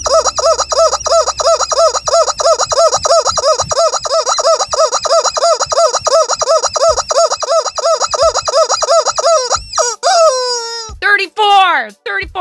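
A rubber chicken toy squawks in a rapid run of loud, honking squeezes, then trails off into a few strangled, wheezing squeals, close and alone.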